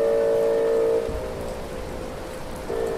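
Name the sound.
rain in a video game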